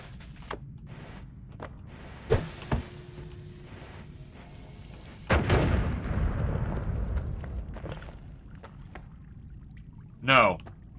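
A bomb goes off in the video game Noita, a sudden low rumbling blast that rolls on for a couple of seconds amid scattered game clicks and thuds, with speech elsewhere in the scene.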